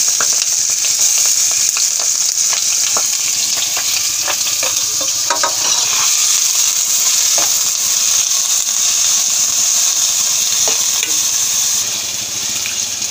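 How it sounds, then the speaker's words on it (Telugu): Chopped onion and green chillies frying loudly in hot oil, a dense continuous sizzle with occasional light scrapes of stirring throughout. "ఉల్లిపాయ పచ్చిమిరపకాయలు కాదు కట్ చేసి పెట్టుకున్నాం కదండి ఇవి వేసి వేయించుకోవాలి"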